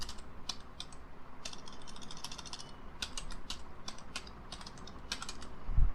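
A password typed on a computer keyboard, with light irregular key clicks in short bursts, close but soft over a steady background hum.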